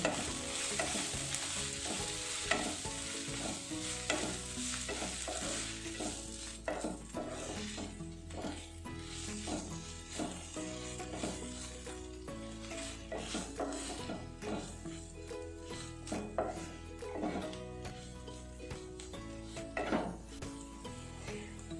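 Egg curry masala with coconut milk stirred in a pan, a steady sizzle under repeated scraping and clinking strokes of a spoon against the pan, close and continuous throughout with no talking.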